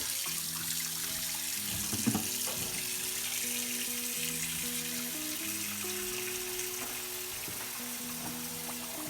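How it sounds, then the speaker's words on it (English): Tap water runs into a bucket as it warms up, a continuous splashing hiss with a brief knock partway through, close and fairly quiet with no talking. "whilst I'm running for the tap to warm it up, I just collect the water in my bucket here"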